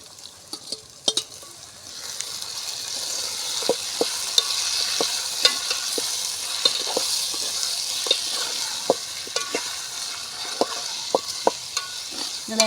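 Chicken curry is stirred in a pot over an outdoor fire in a coconut grove. Steady frying sizzle runs throughout, broken by frequent sharp spoon scrapes and knocks against the pot at an irregular rhythm, close by and with no talk.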